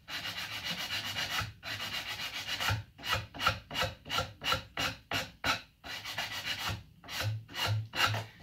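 Sandpaper rubbing along a wooden paddle bow while rounding its edges, a near, rhythmic rasp in repeated strokes, steady at first and then quick separate back-and-forth passes.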